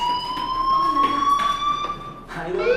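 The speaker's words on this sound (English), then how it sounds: "do you hear that fire alarm?" A school fire alarm in the video game Life is Strange rings steadily as a continuous electronic tone with a slight pitch rise, loud and sustained throughout, with a brief shift in character near the end.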